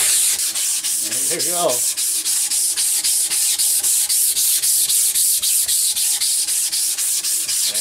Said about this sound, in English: I'll finish sanding this now